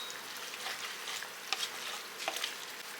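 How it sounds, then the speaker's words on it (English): Black pepper and garlic powder stirred into a creamy leftover ham casserole mixture, a quiet, soft wet scraping and swishing with a few light clicks of the spoon. "get the seasoning stirred up in there also"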